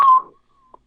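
Voice imitating a toothy Sasquatch whistle: one sharp, loud whistled note that fades quickly, followed by a faint trailing tone and a brief small chirp.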